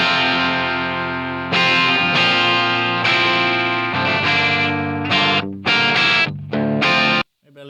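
Electric guitar through a Line 6 HX Stomp amp modeler with treble boosted, a harsh, bright, distorted tone, plays sustained chords, then several short choppy strums before cutting off.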